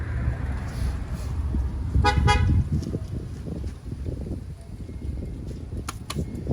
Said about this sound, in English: We honk horns when we get upset.